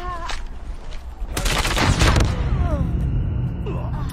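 A grenade explosion bursts amid rapid gunfire in the mobile shooter Call of Duty Mobile, a loud dense blast mid-clip over a busy layer of shots and game effects.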